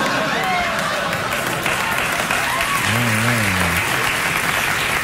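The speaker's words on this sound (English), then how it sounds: "I'm glad somebody's clapping." Studio audience clapping on a late-night talk show, a loud continuous patter of applause with a voice briefly cutting through partway.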